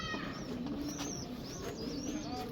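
Pigeons coo softly, including a sturdy Sialkot pigeon, with faint, distant-sounding coos and a few thin chirps over a quiet, hissy background.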